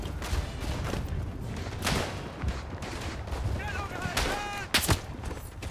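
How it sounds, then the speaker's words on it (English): Rifle and machine-gun fire in the WWI shooter Verdun on the Vosges front: scattered sharp cracks and distant booms crackle over a constant battlefield rumble, with a few bright reports standing out near the end. "I got shot at the moment I retreated"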